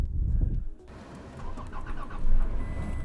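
A truck engine turns over and catches in deep snow during a blizzard, a short cranking burst followed by a steady mid-pitched idle, close and moderately loud.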